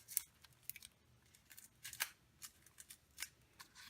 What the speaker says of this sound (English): I'm just going to cut that open.